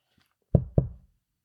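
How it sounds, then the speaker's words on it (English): Two sharp knocks on a door in the early morning, close and loud, spaced about a quarter second apart, then quiet. "A sharp knock on the door disrupts my sleep."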